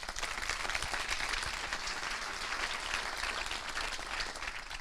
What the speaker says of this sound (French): Et on peut applaudir ça alors.